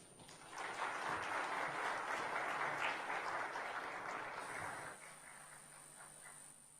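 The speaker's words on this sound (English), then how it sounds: "Please, let's give him another round of applause." A seated audience at a high-level event on violence against women and girls applauds steadily after a speech, a dense patter that holds for several seconds, then thins and tails off toward the end with no talk over it.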